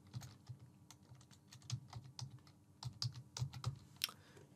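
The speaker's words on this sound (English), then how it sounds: "I'm typing." Rapid clicking keystrokes on a computer keyboard while a new support ticket is typed in, with short bursts of close, crisp taps that come in an irregular rhythm and no voices.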